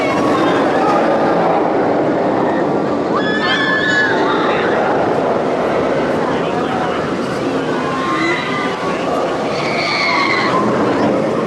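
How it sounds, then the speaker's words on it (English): Noisy roller coaster train running on OzIris at Parc Asterix, a steady loud roaring rumble of wheels on track with intermittent metallic squeals and screeches close by. "Noisy train here on OzIris."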